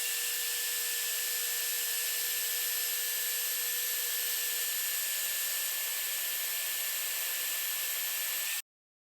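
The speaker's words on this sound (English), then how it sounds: "I'm just running them through the porta band sitting on a swag table" Portable band saw mounted on a stand table cutting 1/8 inch aluminum bar, a steady hissing whine with a constant motor hum that runs evenly, then cuts off abruptly near the end.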